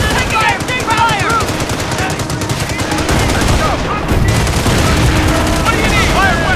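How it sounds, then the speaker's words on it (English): Machine gun fire in the World War II strategy video game Company of Heroes, on the Carentan counterattack mission: continuous rattling bursts with booming impacts, loud and close, while soldiers shout over the battle. "Taking MG fire!"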